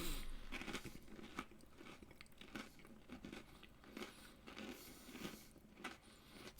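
Someone munching on strong cheese wedged between two crackers, a series of close, crisp crunching bites with wet chewing between them, steady and fairly quiet with no talking.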